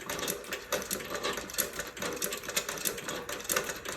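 Singer 29-4 boot patcher sewing machine stitching with tiny stitch length, a fast steady mechanical clatter of needle strokes, close and continuous for several seconds.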